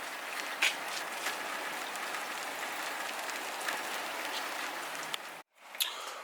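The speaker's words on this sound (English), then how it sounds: "So the rain started to pick up now" Steady rain pattering densely on surfaces around a parked car, a constant hiss of drops close by, with a brief dropout near the end.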